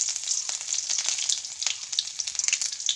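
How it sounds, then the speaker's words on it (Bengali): Onions frying in hot oil with bay leaves in a pan, a bright crackling sizzle with quick spitting pops, moderately loud and steady, with no talking. "একটু করে পেঁয়াজ দিয়ে দেবো"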